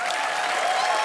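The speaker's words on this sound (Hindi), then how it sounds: "समर्थ के लिए जोरदार तालियां" A television comedy studio audience applauds for a child, bright continuous clapping heard at moderate level in one brief unbroken burst.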